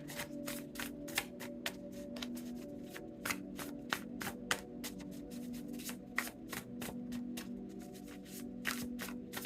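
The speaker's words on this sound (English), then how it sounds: "I'm just going to pull another 3 cards" Tarot cards being shuffled and drawn, repeated crisp riffling flicks and slaps in uneven bursts, close and quiet with no talk.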